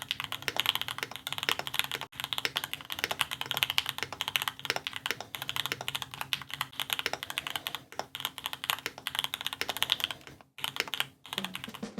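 Rapid, continuous typing on an Encore custom-built keyboard, with crisp close-up keystrokes in a busy uneven rhythm and brief pauses near the end.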